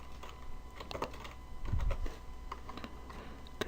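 A computer keyboard is tapped to enter a Control-spacebar shortcut in calculation software, a quick run of light, close key clicks with one heavier press in the middle, quiet and without speech.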